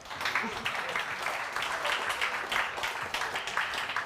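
A crowd claps at a live startup demo day in Kyiv, a fairly soft, dense patter of many hands that carries on steadily without a break.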